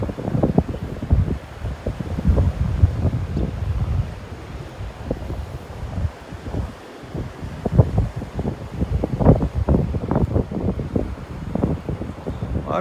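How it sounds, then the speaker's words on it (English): Wind buffets a camera microphone on a low-tide beach at sunset in North Naples, Florida, with loud, gusty rumbling bursts that come and go throughout. "The wind's blowing the camera, sorry folks."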